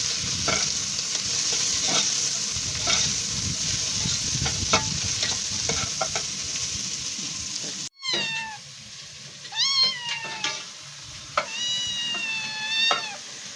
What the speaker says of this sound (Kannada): ಎಲ್ಲ ಈ ಥರ ಫ್ರೈ ಆಡಿಸಿ ಕೆಳಗಿಂದ ಮೇಲಿಂದೆಲ್ಲ ಎಣ್ಣೆಯಲ್ಲಿ ಮಿಕ್ಸ್ ಆಗೋ ಥರ ಕಲಿಸ್ಕೋಬೇಕು.